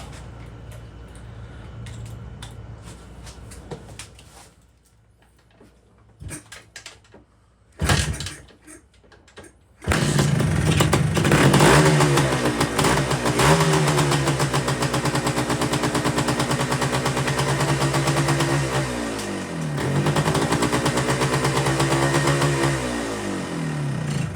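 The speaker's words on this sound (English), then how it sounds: "So we're gonna see if this bike wants to start at all." A 1973 Yamaha DT3 motorcycle is kicked and cranked a few times before its engine catches and settles into a loud, steady two-stroke idle with some revving close by, with no talking.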